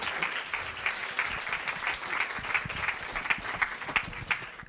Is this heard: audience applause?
yes